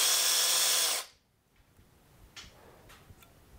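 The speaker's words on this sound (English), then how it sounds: "Now I'll hold it nice and straight in there and just drill right through." Loud, steady whine of a power drill boring through a small snowblower carburetor jet, running for about a second and then cutting off abruptly, followed by faint ticking and handling noises in a quiet workshop.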